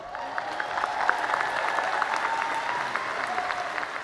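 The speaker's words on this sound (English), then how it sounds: "Please join me in giving our scholarship winners a big round of applause." A graduation audience at a high school ceremony applauds its scholarship winners, producing a steady wash of clapping with scattered sharper individual claps. The applause holds at an even level for the whole stretch and no one talks over it.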